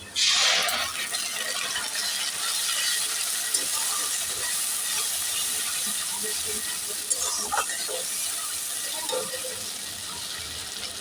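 Onions frying in oil in a home kitchen while a Bengali fish curry (tel koi) is being made, a steady loud hiss and sizzle running throughout with a few faint clinks near the end.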